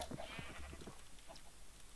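Sheep bleating on a farm in a Minecraft-style video game, several short, faint calls early in the clip over a low steady background hum.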